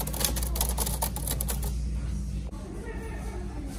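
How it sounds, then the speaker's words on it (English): A Smith Corona typewriter gives off dense mechanical clatter and tapping up close, busiest in the first couple of seconds and then settling into quieter rattles and a single sharp clack. "Typewriter."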